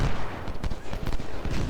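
Union artillery and musket volleys in the Civil War strategy game Ultimate General: Civil War, a dense stretch of overlapping booms and crackling shots that stays loud and continuous from start to finish.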